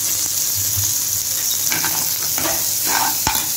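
Ginger garlic paste hits a hot frying pan for a potato omelette, giving a loud, steady hiss of frying with occasional stirring scrapes and no talking.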